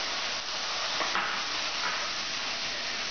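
Onion paste sputtering and sizzling in hot oil in a pan while cooking chhole masala, a steady close hiss with faint crackles throughout.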